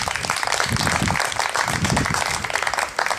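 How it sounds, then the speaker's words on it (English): A crowd claps loudly and steadily in a continuous burst of applause for a volunteer at a rugby club banter event. "Give him a round of applause, please."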